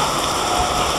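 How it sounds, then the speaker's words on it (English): Steady rain falls outdoors at an amusement park, a loud, close, unbroken hiss of drops striking surfaces, with no voices. "Out into the rain."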